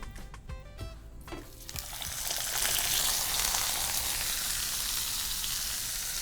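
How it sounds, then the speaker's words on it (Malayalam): Fish slides into hot oil for a Kerala dish and the frying swells into a loud, dense, continuous sizzle after a few quieter clinks and stirs at the start; nobody speaks. "അപ്പം എണ്ണ ചൂടായി നമ്മളിപ്പം മീനിനെ ഇടാൻ പോവാണ് പൊള്ളിക്കാൻ പോവാണ്"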